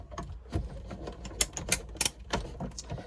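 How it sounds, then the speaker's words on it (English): A die cutting machine presses a paper card sandwich for a card project, giving a quiet, irregular series of clicks and mechanical clacks with sharp snaps near the middle, and no voices. "sandwich it up and run it through the die cutting machine"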